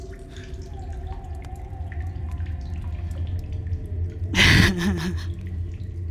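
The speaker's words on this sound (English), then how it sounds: "I'll just take a drink so I don't have to use my water bottle." Drinking water in the video game The Solus Project: one short, splashy gulping burst near the end, set against a low ambient hum and scattered faint drips.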